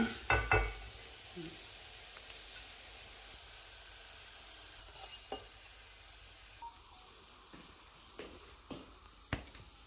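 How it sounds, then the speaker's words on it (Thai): Garlic fries in oil with a soft steady sizzle, opening with a few sharp clinks of a utensil against the pan and followed by occasional faint taps and scrapes while stirring. "กระเทียมเจียวต้องเคี่ยวเองนะคะหอมหอม"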